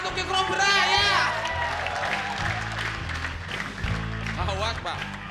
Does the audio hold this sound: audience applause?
yes